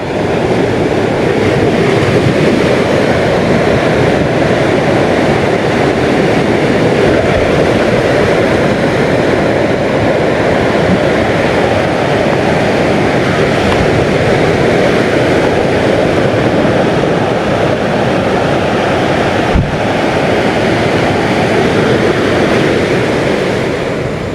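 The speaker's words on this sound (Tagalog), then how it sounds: "ito ang dagat" Steady, loud wash of surf rolling continuously at the sea, a broad roar of breaking waves close by with no voices.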